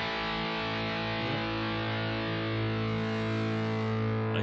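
A sustained, fizzy overdriven electric guitar tone from a Boss GT-8 with the direct signal on rings out with buzzy harmonics and steady level, no voices present.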